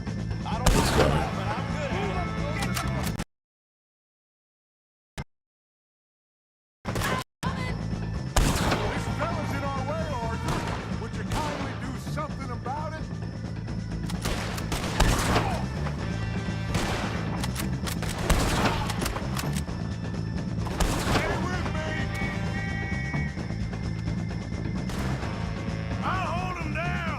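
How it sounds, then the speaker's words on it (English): Gunfire from a shootout with enemies in Red Dead Redemption 2, with repeated loud shots and booms over a dense game soundtrack, broken by a few seconds of silence early on, and a voice talking throughout. "I think you have to, like, systematically shoot these fuckers."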